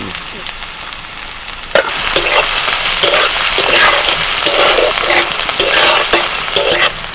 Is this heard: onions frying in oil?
yes